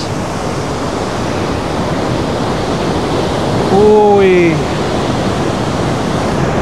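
Steady broadband roar of a waterfall in Martvili Canyon, Georgia, fills the whole clip, with a loud voice shouting briefly over it near the middle.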